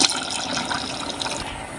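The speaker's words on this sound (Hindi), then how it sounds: "इसी में डाल देंगे पानी," Water is poured into a pot of mutton curry while it cooks, a steady, close splashing gush that runs for a couple of seconds on its own.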